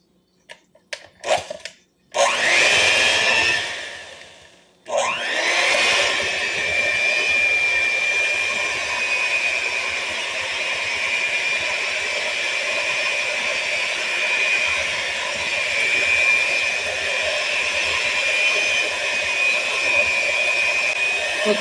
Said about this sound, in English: you're going to put the whisks on your mixer or on your tabletop one, and you're going to mix this into your gelatin mixture on low